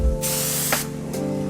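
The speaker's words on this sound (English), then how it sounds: "This spray is super wide, so let's see how good it does." Spray gun painting Akebono brake calipers and rotors on an Infiniti G35: a steady, loud hiss of wide spray running in continuous bursts, close up, with brief pauses between passes and a faint background hum.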